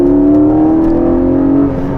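Porsche 718 Cayman GTS engine while driving, a loud steady humming drone with a slowly rising pitch, heard close from inside the car, easing slightly toward the end.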